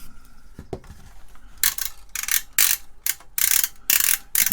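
Rotary switches on a power resistor substitution box snap through a series of crisp, close clicks, starting sparse and faint, then turning into several loud runs of rapid clicking.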